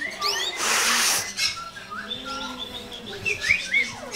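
A pet bird at home gives quick, bright chirps and whistled tweets, close and clear. A short burst of hissing noise comes near the start, and soft voices talk in the background.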